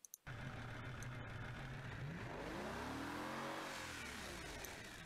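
A virtual car engine in the driving game Automation revs continuously, its pitch climbing and sweeping up and down as it accelerates, loud and alone after a brief click at the start.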